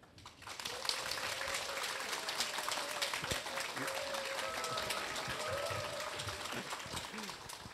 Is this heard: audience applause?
yes